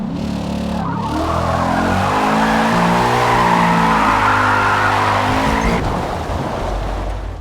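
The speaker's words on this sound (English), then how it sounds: "So if I exceed that, the car's gonna spin out unless it barely catches grip to come back." A car spins out in the racing game Forza Motorsport while drifting, tires squealing loudly and continuously over a revving engine that drops away near the end.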